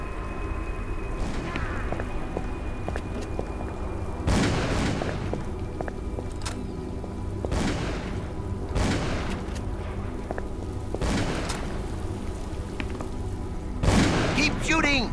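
Gunfire in the video game Call of Cthulhu: Dark Corners of the Earth, loud booming shots spaced every second or two among scattered echoes, with background voices and game ambience.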